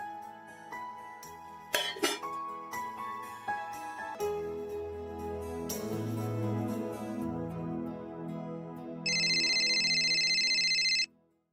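A telephone rings for an outgoing call, a steady electronic tone that enters loudly near the end for about two seconds, after a stretch of background music.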